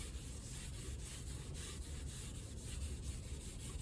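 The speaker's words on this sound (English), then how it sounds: "you're going to come through with your Scotch pad" Abrasive Scotch pad scuffing a Honda wheel being repaired and restored, rubbed in circles after 320-grit sanding; a steady, close, continuous rough rubbing hiss with no talk.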